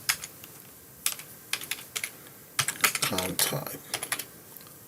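Rapid, uneven clicks of fingers typing on a computer keyboard during database form entry in C++ Builder, with bursts of keystrokes between brief pauses and someone speaking a few words over them.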